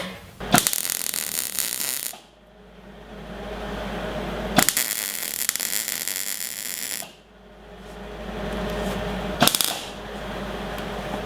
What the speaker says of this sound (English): So I'm going to use this ratchet strap to pull it together.